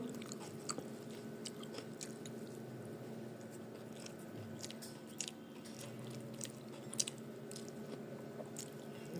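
Someone eating rice with kajli fish curry and biting into a chili, with soft, close chewing and squishy mouth sounds, occasional small crunches, and faint background hum.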